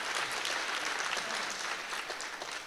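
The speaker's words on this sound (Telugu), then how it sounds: "తెలుగు భాషలో మనం పుట్టినందుకు అందరూ ఒకసారి చప్పట్లు కొట్టాలి" An audience claps together at a Telugu-language personality development talk, a continuous even patter of many hands, moderately distant and without speech over it.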